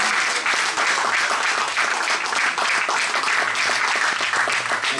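Steady, dense applause from a hackathon final audience fills the room from start to finish, loud and close, with no voices over it.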